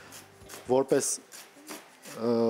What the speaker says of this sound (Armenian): Հիմա կտրատում եմ մաղադանոսը եւ սոխը